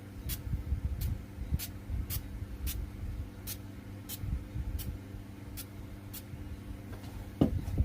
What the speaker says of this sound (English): So what I'm going to do is just spritz it on.